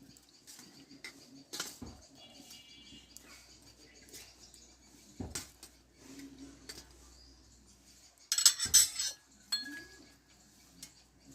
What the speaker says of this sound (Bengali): এই থালাটা দিয়ে আমি রেখে দেবো বন্ধুরা